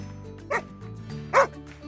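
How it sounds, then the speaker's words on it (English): Two short dog barks ring out, spaced under a second apart, over a faint background hum with quiet voices nearby. "Why are you barking at me like that?"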